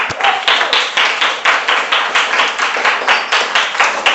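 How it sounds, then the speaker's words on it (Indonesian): Students in a classroom clap together in a brisk, rhythmic pattern of sharp, close claps, repeated in quick regular bursts for several seconds with no voices over them. "Itu tepuk tangan untuk Mas Radit ya"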